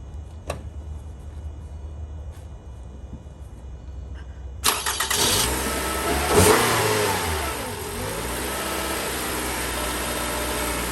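A car engine is heard cranking briefly, catching and revving up loudly, then settling into a steady run after a quiet stretch with faint background noise.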